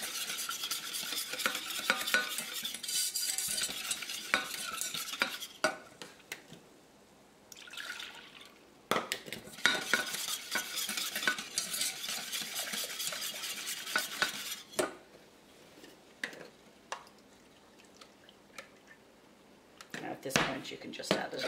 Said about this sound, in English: you're gradually going to add and stir it so that it doesn't go lumpy